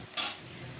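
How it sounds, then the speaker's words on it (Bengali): Onions fry in oil in a pan and are stirred, with one quick scraping stir over a soft, steady sizzle. "সব পেঁয়াজগুলো দিয়ে এটাকে 1 মিনিট আমি নেড়ে একটু ভেজে নেব।"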